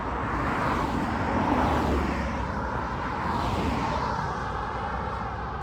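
Cars pass steadily along a road during a long walk, a dense, loud roadway rush that swells and fades slightly as vehicles go by, with no voices.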